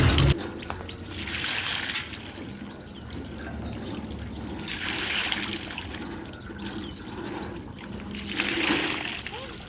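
Water splashing and trickling as an Archimedes spiral lifts it from a lake in Brienz, Switzerland, a steady wet churn over about ten seconds with a light outdoor background.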